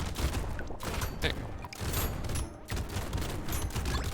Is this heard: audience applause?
no